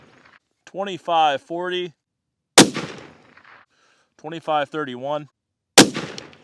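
Two loud, sharp rifle shots from a CVA Cascade XT in .308 Win firing Federal Gold Medal match ammo, each cracking out alone about three seconds apart, with someone speaking briefly before each shot.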